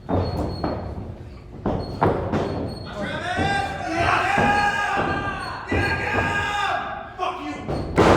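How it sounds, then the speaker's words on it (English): A double knee strike in the corner during a Southern Alberta Invitational wrestling quarter-final, heard as sharp thuds against the mat and ropes among crowd noise, with a commentator talking throughout. "Oh, double knee strike in the corner."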